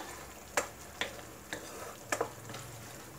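Mushroom masala with garam masala is stirred in a pan, giving a few distinct spoon taps and scrapes at a slow, uneven rhythm over a soft, quiet sizzle, with no speech.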